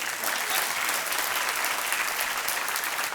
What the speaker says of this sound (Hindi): ताली बजती रहे इनके लिए।